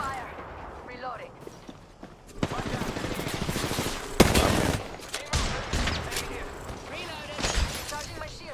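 Heavy gunfire in Black Ops zombies, sustained rapid automatic bursts and loud individual shots with mechanical clanks, continuous across the scene with voices talking underneath.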